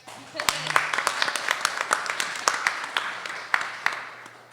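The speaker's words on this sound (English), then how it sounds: "Please clap for Gretchen." An audience at a panel discussion applauds steadily, a dense patter of many hands clapping, close and sustained for several seconds.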